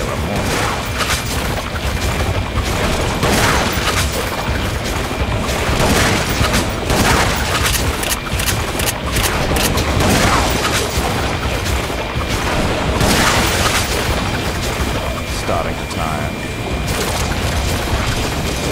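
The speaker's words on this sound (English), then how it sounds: "Grenade launcher." Grenade launcher firing in Resident Evil Umbrella Chronicles, with repeated loud booming blasts and crackling impacts over a dense, continuous wash of game combat noise that stays intense for the whole stretch.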